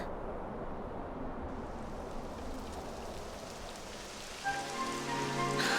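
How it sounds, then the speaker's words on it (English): Steady rain in the video game Dragon Quest 11 patters across the whole stretch, a dense even hiss of drops, with a low droning tone joining near the end. "It would have to go and start raining, wouldn't it?"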